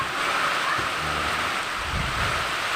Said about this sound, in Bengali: দেখুন যে মুষলধারে বৃষ্টি হচ্ছে বাতাসের গতিবেগ অত্যন্ত তীব্র আকার